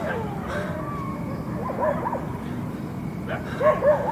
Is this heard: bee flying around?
no